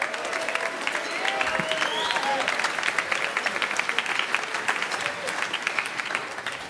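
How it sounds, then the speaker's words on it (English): A festival audience bursts into sustained applause with cheers and whistles rising through the clapping, loud and close for the whole stretch, with no talking over it. "Cheryl Morris, please, everybody, give her a big cheer."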